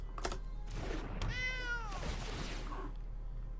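A cat meows once in a drawn-out, rising and falling call over steady background hum, with a few soft thumps nearby.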